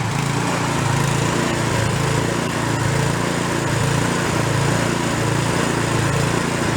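Small gasoline engine on a free snow blower runs steadily as it warms up, a constant loud buzzing drone close by with no break in pitch.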